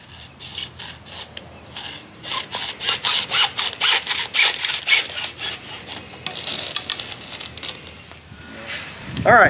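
A hand saw cuts through PVC pipe in quick, rhythmic rasping strokes that build in strength, with a voice talking over parts of the sawing.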